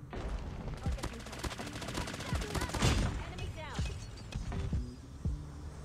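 Gunfire in the mobile shooter game Call of Duty Mobile with an M13 rifle class: rapid automatic bursts and shot reports over a dense game soundscape, with a player talking over the action.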